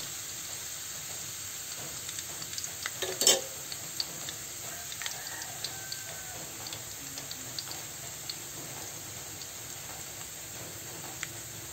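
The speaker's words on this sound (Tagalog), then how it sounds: "Ilagay na natin ang hiniwang bawang. Ayan, lutuin lang natin itong bawang hanggang sa mag-light color brown siya." Sliced garlic fries in hot oil, a soft steady sizzle and crackle with a few sharp clinks of a utensil stirring, fairly quiet and close with no talking.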